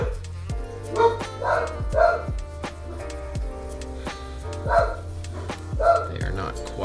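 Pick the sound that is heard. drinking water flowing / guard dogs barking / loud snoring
guard dogs barking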